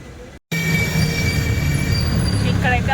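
A metro train runs along its rails at Nampally in Hyderabad, a loud close rumble with steady wheel squeal and rising whine after a brief dropout at the start.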